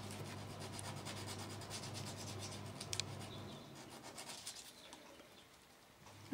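Sandpaper rubbing to smooth the edges of a small wooden matchstick, a faint, steady close scratching that thins out toward the end, with no talk.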